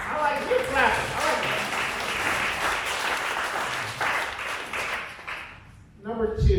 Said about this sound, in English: I like you clapping.